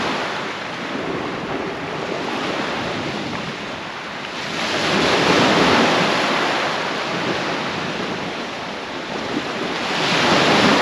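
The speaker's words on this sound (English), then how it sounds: "Sea's got a bit more choppy" Choppy sea surf on the Holderness coast near North Hornsea rolls and washes steadily, with waves swelling louder in surges amid heavy wind buffeting the microphone and no voices.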